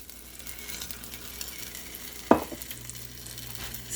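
A strawberry banana gluten-free pancake cooks in a hot pan, giving a steady, soft sizzle close by, with one sharp clink partway through.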